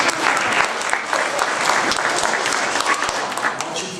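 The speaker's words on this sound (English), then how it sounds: "Let's give her a big, big clap." Audience clapping in a room, a steady burst of many hands applauding together for several seconds, fairly loud and close.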